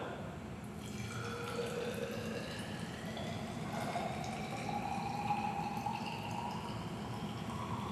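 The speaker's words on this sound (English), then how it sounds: "to the second one, I'm going to add 50 milliliters of methanol." Methanol is poured into a graduated cylinder in a steady, continuous trickle, with the pitch of the filling liquid rising gradually as the level climbs, close and fairly quiet.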